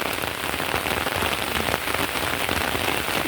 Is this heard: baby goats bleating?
no